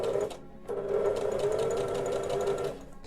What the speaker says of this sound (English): sew it all the way without back stitching